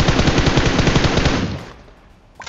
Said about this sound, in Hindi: मशीन गन बहुत रिकॉल हिला रही है